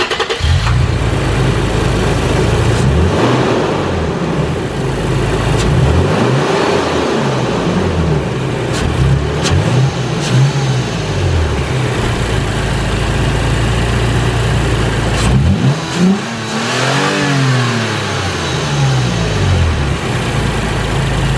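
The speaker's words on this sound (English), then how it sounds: "we just kind of gave a couple revs" Toyota Tacoma (2016 or later) fitted with an Injen Evolution cold air intake and dry air filter, engine revving a couple of times with rising and falling sweeps over a steady idle, loud and close throughout.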